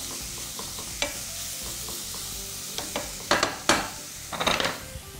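Carrots frying in a pan for a meat and potato pie, with soft steady sizzling under occasional sharp scrapes and clatters of a spoon stirring against the pan, busier toward the end.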